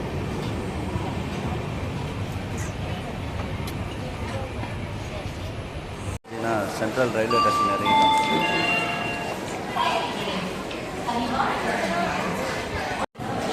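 Busy Chennai Central railway station ambience with a steady rumble, crowd chatter and echoing announcements or horns, continuous and fairly loud throughout.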